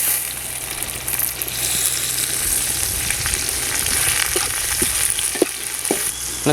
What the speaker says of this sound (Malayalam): നമുക്കിതിലേക്ക് തക്കാളി ഒന്ന് ഇട്ട് കൊടുക്കാം. നമ്മൾ അരിഞ്ഞു വെച്ച തക്കാളിയാണ്.